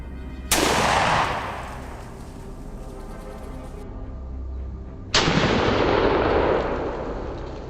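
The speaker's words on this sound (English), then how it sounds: "Steady on the bead, I squeeze the trigger." Two loud rifle shots fired in a forest at wild boar, each a sharp crack followed by a long rolling echo that fades over several seconds, no voices.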